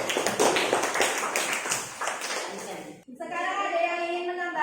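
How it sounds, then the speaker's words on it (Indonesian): Students in a classroom applaud a group with brisk, dense clapping for about three seconds. The clapping stops abruptly and a voice begins talking. "tepuk tangan untuk kelompok"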